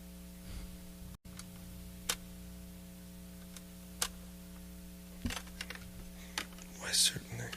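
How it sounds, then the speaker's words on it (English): A cassette changing in a cassette player during a live radio session: a few sharp mechanical clicks and clunks spaced a second or two apart over a steady electrical hum, with a brief dropout and a rustle near the end. "That's the sound of a cassette changing."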